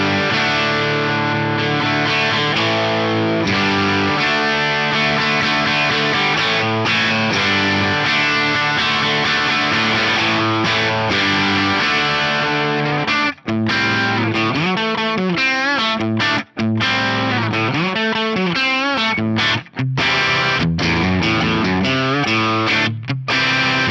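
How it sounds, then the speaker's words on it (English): Distorted electric guitar from a Les Paul Custom on its bridge pickup, played through a Fender Bassman into a Marshall cabinet, chugging rock chords and riffs, loud and continuous with brief gaps between phrases. "Let's hear it with a Les Paul Custom on the bridge pickup."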